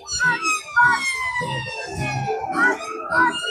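A wailing ambulance siren rises and falls repeatedly at a protest in Leeds, with voices talking over it and muffled background noise throughout.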